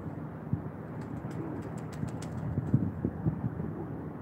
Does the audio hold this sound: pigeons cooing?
yes